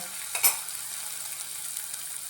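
Steady, fairly quiet sizzle of cumin and finely chopped chilli frying in a spoon of oil in a kadai, with a brief stirring scrape near the start.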